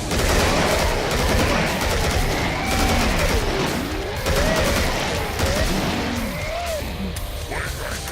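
Sustained automatic gunfire from an enemy machine gun in the shooter game Killing Floor, a dense continuous rattle mixed with loud in-game effects and noise for the whole stretch.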